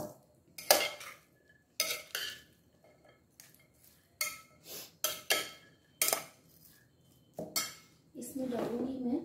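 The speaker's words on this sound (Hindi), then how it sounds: "इसको मैं अच्छा सा मिक्स करती हूँ" Dishes and utensils clink and scrape sharply in a mixing bowl as Adana kebab ingredients are combined, several distinct knocks spaced irregularly, ending in a steadier rustling stir.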